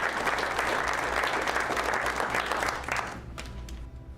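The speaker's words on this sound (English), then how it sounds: "Dick McDonald, past state president, had the honor of placing the jewels on Sharon, to a round of applause from her supporters." Supporters applaud at a jewel-placing ceremony as the jewels go onto Sharon, loud even clapping from a crowd that fades out quickly near the end.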